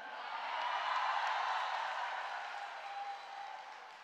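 Applause fills a Malaysian parliament chamber as minister KJ walks in: a steady wash of many hands clapping that swells within the first second, holds, then slowly tapers off.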